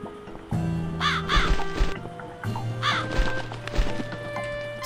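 A crow caws several times in the horror adventure game The Cat Lady, harsh repeated calls in two bursts over a low droning game soundscape with occasional thuds, and no talk.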